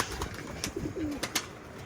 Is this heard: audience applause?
no